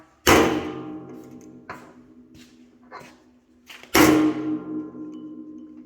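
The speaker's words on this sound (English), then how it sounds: "Hit it with a hammer." Two loud, sharp metallic hammer strikes on a metal punch during Toyota MR2 engine work, a few seconds apart, with a few lighter taps in between.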